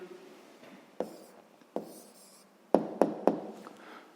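A pen writing out the answer to a sixth-grade math exercise on paper: soft scratchy strokes broken by several sharp taps and clicks, close and fairly quiet, with no talking.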